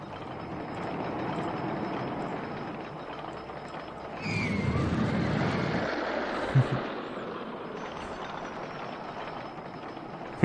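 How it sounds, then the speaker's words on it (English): A full ride train rolls along its track in the theme-park game OpenRCT2, a steady mechanical rumble that swells louder for a couple of seconds midway, with a few light clicks. "I believe this is a full train."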